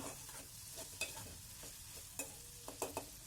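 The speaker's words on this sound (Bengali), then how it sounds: "এখন আমি আর একটু কষিয়ে নিব" Pumpkin sautéed with turmeric, coriander powder, cumin powder and salt, stirred in a pan: a faint, quiet sizzle broken by brief scraping clicks of the spoon, with no talking.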